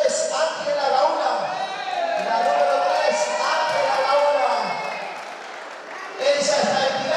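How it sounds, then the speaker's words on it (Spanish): Audience in a hall at a pageant queen election cheering and applauding for a contestant, a loud sustained crowd roar with whoops, shouting and clapping that dips briefly and then surges again. "Necesito la ovación del público, necesito que hagan quilombo"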